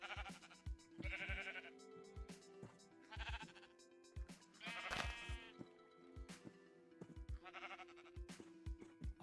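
Repeated sheep bleats from sheep being bred in Minecraft, several distinct calls spaced across the stretch amid soft game sounds and clicks, fairly close and clear with no voices.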